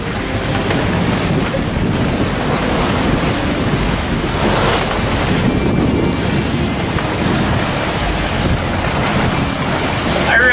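Strong 20–22 knot wind and rough sea batter a sailboat under double-reefed main and half jib at about 7.5 knots, with continuous loud roaring wind buffeting the microphone over crashing waves and rushing water throughout.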